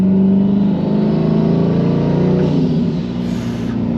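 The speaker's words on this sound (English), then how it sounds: "You hear the bypass valve, so just barely rolling into it" 1500 hp twin-turbo C8 Corvette rolling gently onto the throttle, a loud, close engine drone with the turbo bypass valve adding a soft rushing hiss before a brief high whistle near the end.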